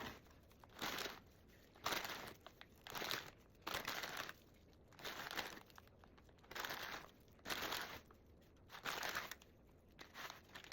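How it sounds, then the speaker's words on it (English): Chili cheese Fritos are crushed by hand inside their bag, giving about ten rhythmic bursts of crinkling and crunching separated by short pauses, fairly quiet and close. "Just gonna crunch them up and put them right on top."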